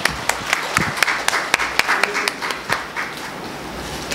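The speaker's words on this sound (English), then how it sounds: "I would like to finish this with a huge round of applause for each and every member of this room" Scattered applause from a psychiatric conference audience in a hall, a handful of distinct claps fading and thinning toward the end.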